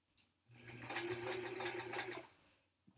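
A sewing machine stitches a quilt block, its motor whirring in a steady, fast burst of about two seconds that starts and stops abruptly in a quiet room.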